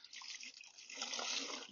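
Wet rag and soapy water wiping garage dust and dirt off a 1976 Mercury Monarch's body, a soft continuous swishing and splashing, close and fairly quiet, with no voices.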